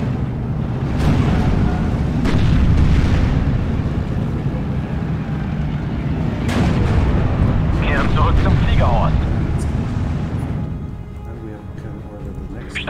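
Artillery cannon fire and explosions in the WWII strategy game Steel Division 2, heavy booming blasts rolling out repeatedly over a dense rumbling battlefield din, with voices speaking over the action.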